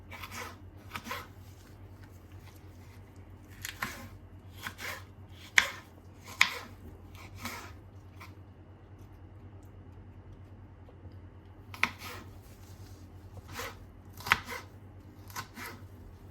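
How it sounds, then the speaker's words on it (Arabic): Chili peppers for a salad are chopped on a board in irregular bursts of crisp knife taps, close and fairly quiet, with pauses between runs. "بعد ما قطعنا الفلفل، قطعناه 3 حبات فلفل"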